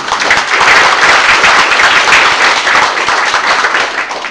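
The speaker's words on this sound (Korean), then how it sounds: "큰 박수 부탁드립니다." Audience applauding at a book launch event, a dense, loud burst of many hands clapping close by, steady and continuous throughout without speech.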